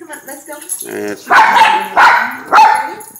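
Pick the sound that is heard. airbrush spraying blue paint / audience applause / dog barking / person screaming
dog barking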